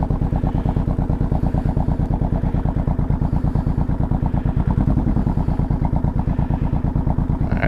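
A Honda VTX1800 motorcycle's big V-twin engine runs at a steady, loping idle, its rhythmic thumping pulses close and loud, with no voices.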